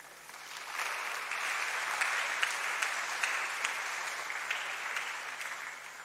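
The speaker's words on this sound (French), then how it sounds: "Une telle conférence avec des applaudissements timides comme ça" Timid applause from a small conference audience at an Advent talk, a soft, sparse patter of clapping that swells slightly and holds at a modest level for several seconds, with no voices over it.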